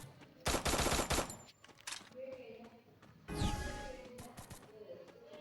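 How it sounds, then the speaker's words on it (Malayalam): Bursts of gunfire in the mobile battle game Free Fire Max, a loud automatic volley early on and another burst later, with quieter game sounds between them. "അവിടെ നിന്ന് വെടിവെക്ക് കേൾക്കുന്നുണ്ട്."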